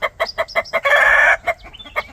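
A red pile, minor blue cross gamecock clucks several times, then lets out one loud, close crow before settling back into short clucks.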